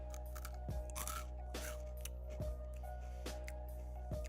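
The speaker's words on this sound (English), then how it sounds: "Very crunchy, like cut your mouth Captain Crunch crunchy." Crunchy Japanese salami-flavoured snack stick being chewed, with sharp crunches landing roughly every second over a steady low background hum, close and fairly quiet.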